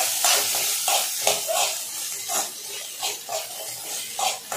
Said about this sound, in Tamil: எல்லாத்தையும் போட்டு கொஞ்சம் வதக்கிக்கலாம்